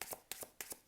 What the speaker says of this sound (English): I will now just shuffle for which zodiac sign this is